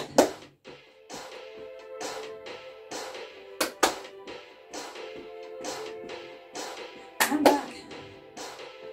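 Sharp hand claps during a dance fitness class, landing in quick pairs and single hits at an irregular rhythm over background music, close and fairly loud.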